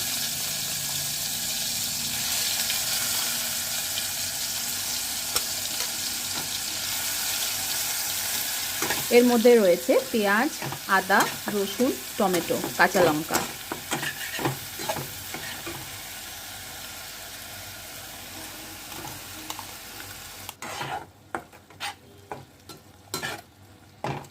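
Steady sizzle of cumin frying in oil, then a burst of wet spattering and stirring as ground spice paste hits the pan, fading to scattered clinks and scrapes.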